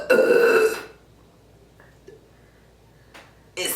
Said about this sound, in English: so much burping?